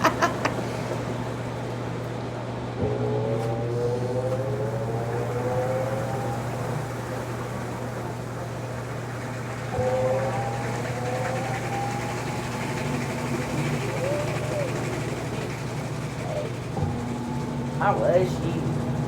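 A Magic Chef 1.6 cu ft washing machine on its spin cycle, a steady low motor hum with a rising whine as the drum speeds up, fairly loud and continuous, with a person talking over it at times.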